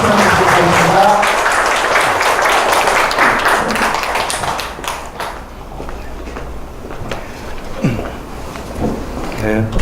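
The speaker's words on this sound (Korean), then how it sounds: "큰 박수로 환영해 주시기 바랍니다." Audience applause welcoming a speaker at a lecture hall event: a loud burst of clapping that gradually thins and fades over several seconds, with scattered last claps and room sounds after.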